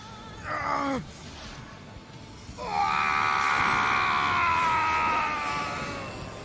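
A dubbed character in a Final Fantasy XIV Praetorium fan dub lets out a loud, drawn-out scream: a brief cry first, then a long, sustained, strained wail that holds steady for several seconds before fading.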